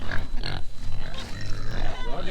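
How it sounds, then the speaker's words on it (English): Big and little pigs kept together in a barn grunt and oink, a dense, close chorus of short guttural grunts rising and falling, with a voice mixed in. "Got big pigs and little pigs all together."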